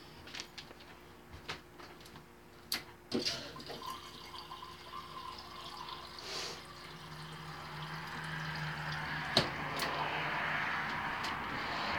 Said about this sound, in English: I'm going to refill my water, but it's just right here.